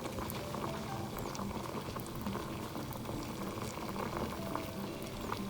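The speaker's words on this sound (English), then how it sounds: "this is my sauce mixture. It's getting cooked, and once it's cooked it will be a little thickened" An Indo-Chinese sizzler sauce mixture bubbles and thickens in a pan, giving a steady simmering, boiling crackle with small pops throughout, close and even, with no talking.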